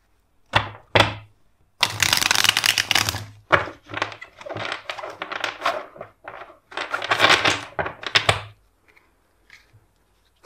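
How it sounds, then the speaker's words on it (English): Tarot cards are shuffled in several quick riffling bursts with short pauses between, close and crisp, ending with a few light taps. "First we'll shuffle the cards."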